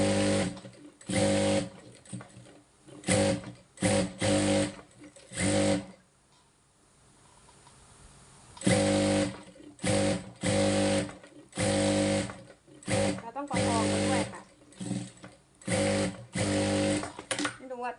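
A sewing machine stitches fabric in rhythmic bursts of rapid mechanical whirring, each run lasting a second or so. The bursts stop for a pause of a few seconds midway, then start again, close and loud.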